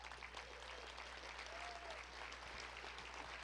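Standing applause from guests at an annual association dinner, a sustained, fairly faint patter of clapping over a low steady hum, with a few voices underneath.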